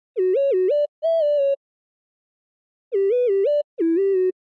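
A bright hyperpop synth lead plays alone in four short phrases, two then a pause then two more, with quick pitch bends wobbling between notes.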